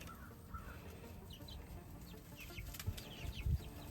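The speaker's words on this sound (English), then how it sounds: "Very cute little batch of chicks." Six-week-old chicks, pullets and cockerels, cluck and peep softly over a steady background hum during evening farm chores, with a few slightly louder calls near the end.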